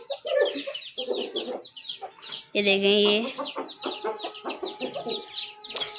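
Rooster clucking and chattering loudly up close in a village yard, a continuous run of clucks with one drawn-out call in the middle, while someone speaks briefly over it.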